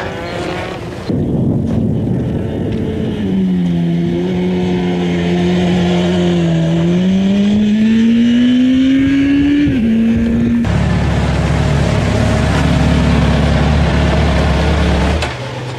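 A motorcycle ridden on a track, its engine revving loud and close with the pitch climbing through the gears, then a sudden cut to a lower steady drone for the last few seconds, with no talk.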